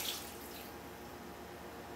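Lemony liquid is poured over rolled stuffed grape leaves in a pot, giving a faint, steady trickling splash of liquid for a couple of seconds, with no voices.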